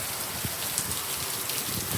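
Steady rain falling on a parked car in Florida, a dense, even patter across the roof and hood, close and continuous.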